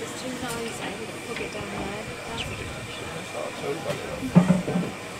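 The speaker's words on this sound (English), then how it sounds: "Sounds like somebody's Hoover in here." A vacuum cleaner runs nearby indoors at a seniors' weekend gathering, a steady low hiss and whir beneath people chatting.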